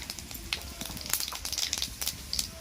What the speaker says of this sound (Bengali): এর মধ্যে আমি দুটো ফোড়ন দিয়ে দিলাম দুটো সাদা জিরে